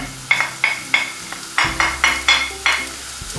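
Onion and garlic sizzle in hot oil as a utensil scrapes and stirs the pan in a steady rhythm of about eight strokes.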